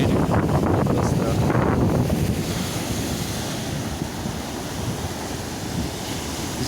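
Stormy sea surf at Liski beach: heavy waves roll and break close by in a continuous loud roar, with a louder surge in the first two seconds settling into steady wash, wind buffeting the microphone throughout.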